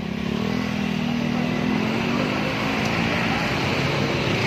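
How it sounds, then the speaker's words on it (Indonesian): A Suzuki Address scooter fitted with a custom exhaust made from a Vario silencer runs with a quiet, steady low engine drone that rises slightly, heard close and continuous. "Untuk bobokan dari silencernya Vario ke Address atau Next 2. Jadi suaranya adem, silent ya."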